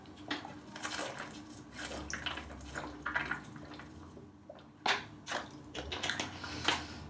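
Tap water runs and splashes in intermittent bursts while someone moistens their face during a skin-care routine, close and fairly quiet, with no talking.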